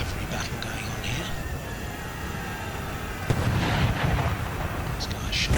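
Booming musket volleys and artillery-like gunfire in an Empire Total War battle, a sustained rumble of distant shots with a sharper burst of fire partway through.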